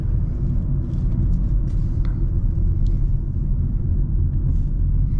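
A 2024 Hyundai Elantra sedan driving, heard from the cabin as a steady low road and engine rumble, loud and unbroken, with no talking over it.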